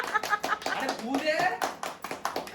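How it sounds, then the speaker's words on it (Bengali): A group of people clap their hands at a lively birthday gathering, with quick, uneven bursts of applause under excited voices shouting and talking close by. "আরে হাততালি দে রে"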